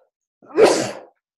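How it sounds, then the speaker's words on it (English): A single sharp human sneeze, close and loud, bursting out abruptly and fading within about half a second in an otherwise quiet room. "Sometimes those sneezes come too quickly."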